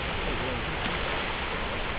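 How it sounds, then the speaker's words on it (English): Water washing against a rocky harbour shoreline makes a steady, broadband rush with no breaks, and faint voices sit underneath it. "Just love that sound of water."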